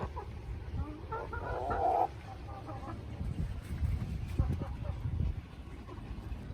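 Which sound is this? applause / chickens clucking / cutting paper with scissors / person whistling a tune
chickens clucking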